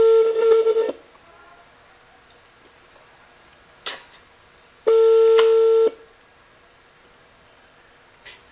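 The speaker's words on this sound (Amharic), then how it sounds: "እየጠራ ነው።" Telephone call ringing out, two separate one-second bursts of a loud electronic ringback tone separated by a few seconds of near silence, with a couple of faint clicks in between.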